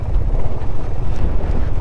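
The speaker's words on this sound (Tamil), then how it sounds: "இங்கே தான் கரெக்டாக விண்டு நம்மளை அப்படியே தள்ளுது, சரியாக தள்ளுது நம்மளை." Strong wind buffets the microphone with loud, low, gusty rumbling that continues without pause, on a motorcycle ride near Munnar, Kerala.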